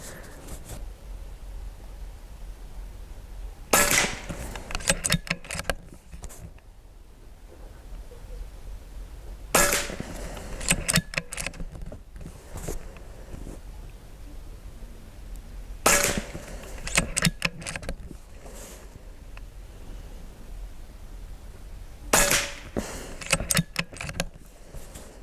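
Four sharp, loud shots from a DAR Gen 3 .22 caliber PCP airgun firing JSB 18.13 pellets, evenly spaced about six seconds apart, each a crisp crack with brief metallic ring over quiet outdoor background.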